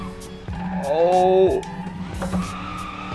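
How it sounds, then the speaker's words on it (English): An open-differential car drifting with the handbrake pulled, its tires squealing in a rising, wavering screech over engine drone for about a second before cutting off, with a brief spoken exclamation. "Handbrake is your friend when you're drifting open diff."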